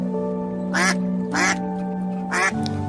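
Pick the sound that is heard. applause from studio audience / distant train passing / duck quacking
duck quacking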